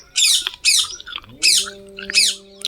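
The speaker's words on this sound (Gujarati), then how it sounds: "પોપટ બોલી જાય લેબડા ઉપર" A parrot in a neem tree gives four loud, harsh squawks in a row, each short and shrill, with a low droning tone in the background.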